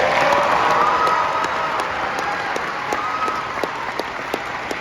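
A concert audience at a Christmas show in the Opry House, Nashville, applauds and cheers for the mums in a steady, dense wash of clapping with scattered shouts, loud and sustained throughout before easing slightly toward the end.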